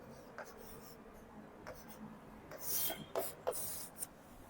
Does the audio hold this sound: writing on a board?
yes